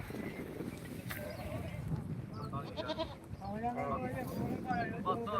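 Goats bleat repeatedly amid a noisy crowd at a livestock market in Dhanaula, with people talking throughout and a busy, bustling background of animals and voices.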